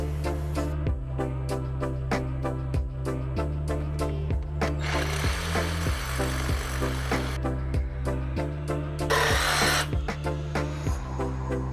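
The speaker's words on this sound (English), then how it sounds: "We're gonna be using the Camo Marksman decking tool again." A Camo Marksman decking tool with a power drill drives deck screws for a stock tank pool deck, repeated short whirring bursts with steady mechanical clicking and a couple of louder grinding runs, close and loud.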